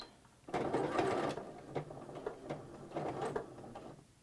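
A sewing machine back stitches across placemat fabric in short bursts, its needle chattering forward, pausing and reversing several times at close range with no talk.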